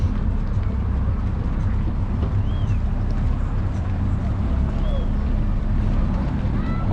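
A steady low drone of fishing-tournament boat engines moving slowly off Alanya, Turkey, with wind buffeting the microphone and faint voices in the background.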